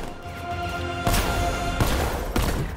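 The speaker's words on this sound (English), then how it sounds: "60mm cannon operational." In the Batman Arkham Knight video game, the Batmobile's 60mm cannon fires in three heavy booming blasts over a continuous rumbling game background.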